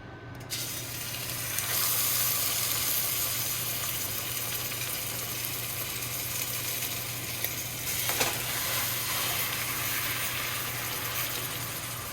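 Rib eye steaks sear in a cast iron pan with a loud, continuous close-up sizzle that holds steady throughout and swells briefly near the end, with no talking.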